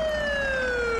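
A fire truck siren wails steadily in a mobile 3D driving game, a loud continuous electronic tone sliding slowly downward in pitch with no talking over it.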